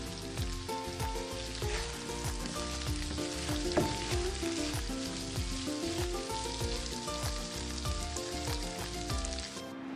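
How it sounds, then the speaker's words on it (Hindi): Blended tomatoes frying in a pan for wedding-style degi chicken, giving a loud, steady sizzle with stirring scrapes and clatters throughout, no talk. "2 मीडियम साइज़ के टमाटर ब्लेंड हुए हुए शामिल कर देंगे।"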